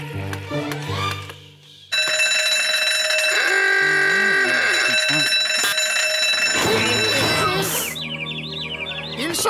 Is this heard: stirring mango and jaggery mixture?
no